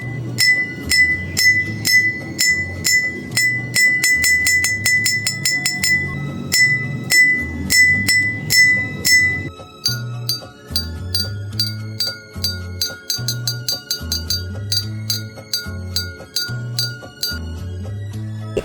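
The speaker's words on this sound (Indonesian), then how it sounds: "menampilkan data hasil praktikum gelas bergetar yang berisi air" A metal spoon tapping glasses filled with different volumes of water, giving a long sequence of clear ringing glassy tones, struck repeatedly in a steady rhythm with the pitch shifting partway through.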